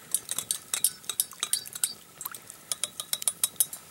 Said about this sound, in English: And I have a little spoon, fork, and knife combination.